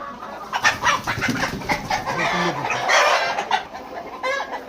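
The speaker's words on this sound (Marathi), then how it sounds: "सुल्तान भाई बोलो, एक मुर्गा उठा के दिखाओ इनको।" A Black Australorp rooster kept for breeding on a poultry farm clucks and squawks repeatedly while being lifted, with loud, close, agitated calls in an irregular run.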